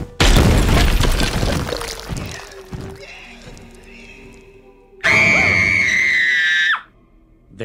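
Cartoon characters from Smiling Friends let out loud screams: one burst of raw shrieking at the start, a quieter stretch with low vocal noises, then a second sustained high-pitched scream that cuts off abruptly.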